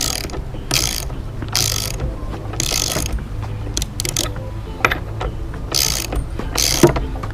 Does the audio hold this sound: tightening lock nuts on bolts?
yes